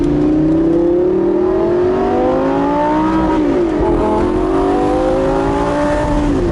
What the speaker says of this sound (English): Honestly, those downshifts alone on this car make it.